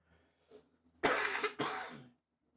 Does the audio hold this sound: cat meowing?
no